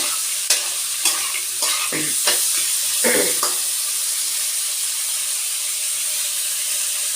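Crab and potato curry sautéing in a pan with a steady loud sizzle and hiss, broken by several sharp scrapes and stirs of a spatula early on, then continuous frying alone.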